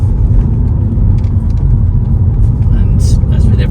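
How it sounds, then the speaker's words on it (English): An Audi A5 2.0 TDI S-Line Sportback diesel with 53,600 miles driving along a road, a loud, steady low rumble of engine and tyres from inside the car, with a brief brighter hiss near the end. "Just giving it a little run up the road, see how it drives"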